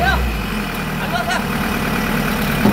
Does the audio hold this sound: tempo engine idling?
yes